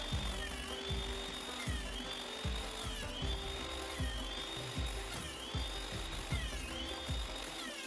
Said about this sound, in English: Next, I set up the guide on the bandsaw to make my cuts.